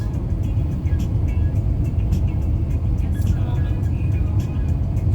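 A small car drives along a road on the way to Quebec, giving a steady low engine drone and tire rumble heard from inside the cabin.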